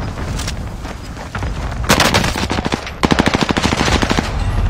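Rapid automatic gunfire in the game Call of Duty: Warzone, with a short burst followed by a longer rattling string of loud, closely spaced shots over background game noise.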